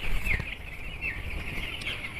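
Young chickens make soft clucks and peeps close by, with a few brief higher chirps over low background rumble and no talk.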